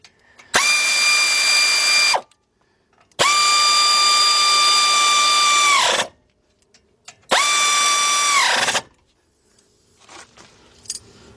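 An impact or power ratchet tool tightens a bolt with a 13mm shallow socket on a 1996 Ford F150 pickup's front wheel bearing assembly. It gives three loud, steady whirring bursts separated by short pauses.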